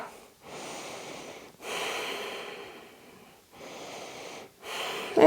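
Slow, deliberate breaths held through a yoga plank pose, four long exhalations of about a second each separated by short pauses, close and fairly soft with a slight airy rasp.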